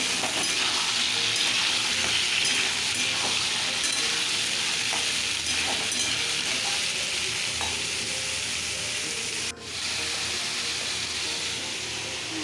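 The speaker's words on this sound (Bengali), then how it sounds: "এই তেলে আলুটা ভেজে নিচ্ছি" Potatoes fry in hot oil in a home kitchen, a steady, close sizzle with occasional stirring scrapes and light clinks running throughout, and no talking.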